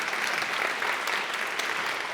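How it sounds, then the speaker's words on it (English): An audience claps for the chefs after a cooking demonstration of tabbouleh, pierogies and baklava, a brief burst of steady, dense applause from a room full of people. "Let's give them one more round of applause."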